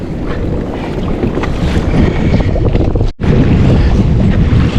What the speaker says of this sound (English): Some of these waves are pretty good for this little kayak.